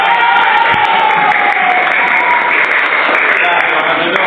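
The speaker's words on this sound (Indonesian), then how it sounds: "kasih tepuk tangan." A classroom group gives loud, sustained applause after a group presentation, dense clapping mixed with crowd noise and cheering voices, close and continuous for about four seconds.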